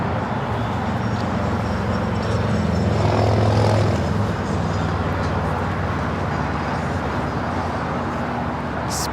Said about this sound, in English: A330neo coming in from Tokyo Haneda.